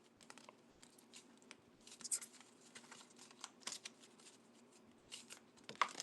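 A deck of non-tarot cards being shuffled at a book club gathering, faint papery riffles and crisp flicks in short irregular bursts, quiet and close with no talking.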